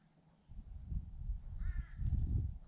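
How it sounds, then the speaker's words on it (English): Noisy birds squawk over by a lake at a boat ramp: a few harsh, hoarse caws from some distance over low rumbling background noise, with no speech. "Those are some noisy birds over there."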